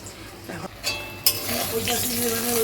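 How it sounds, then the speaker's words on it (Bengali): Pointed gourd (potol) frying in a pan starts after a faint clatter and quickly swells into a bright, steady sizzle. It is close and moderately loud. "তো একটু পটল ভেজে দিচ্ছি।"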